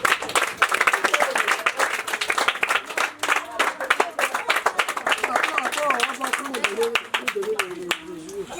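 Crowd at a community charity event in Abobo clapping in a steady, rhythmic beat, with singing and voices rising over the claps throughout.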